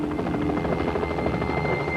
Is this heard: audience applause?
no